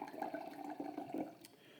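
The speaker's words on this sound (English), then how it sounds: "We'll give it a pour here." Grifalco Aglianico del Vulture red wine, a 2016 vintage, poured from the bottle into a glass, a soft close gurgling stream of liquid lasting a second or so before tapering off.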